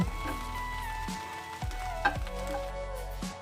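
Dried chela fish sizzles in mustard oil in a pan while being stirred and fried, a steady close frying hiss broken by a few scraping stirs and clinks, with no talking.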